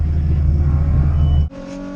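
A loud, close twin-charged RB drift car engine, with supercharger and turbo, holds a high, steady rev, then abruptly drops off as the throttle lifts, leaving a lower idle-like tone, at Willow Springs Raceway.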